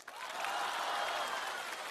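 Audience applause at the 2015 CCTV Spring Festival Gala during a comedy sketch, a dense, steady wash of clapping from a large crowd that fills the whole moment without a break.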